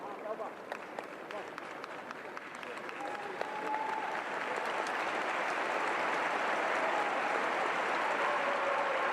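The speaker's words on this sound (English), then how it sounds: "Applause for Nam." Stadium crowd at an AFC Champions League round-of-16 football match between Yokohama F. Marinos and Bangkok United applauds a player, a broad roar of clapping that swells and holds loud and distant, with a commentator talking over it.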